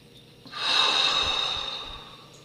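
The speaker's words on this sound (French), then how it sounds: "Retenez l'air quelques instants, puis soufflez fortement par la bouche" A forceful exhale blown out through the mouth during a guided meditation breathing exercise: one long, loud, breathy rush of air that swells quickly, then slowly fades over about two seconds, close and alone.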